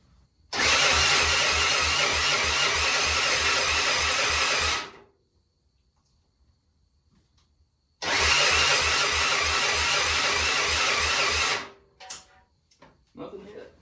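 Honda Fourtrax 300 ATV engine cranked by its starter in two long bursts of about four seconds each, a loud whirring that never catches, separated by quiet and followed by faint clinks.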